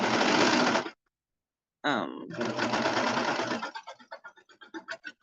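A sewing machine running on a bomber jacket welt pocket sews in bursts, a continuous rapid whir, then a pause, then another run that breaks into short pulses as it slows near the end.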